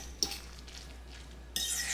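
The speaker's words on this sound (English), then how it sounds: "Just get that stirred up" A spoon stirs butter, pepper and salt into a dish, quiet scraping against the bowl with a soft knock near the start and a brighter clatter of metal at the end, close and isolated.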